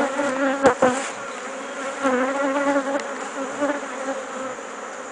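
Dense, steady buzzing from a mass of honey bees covering a brood frame during hive inspection on a farm, a close continuous drone with wavering tones and a couple of sharp knocks near the start.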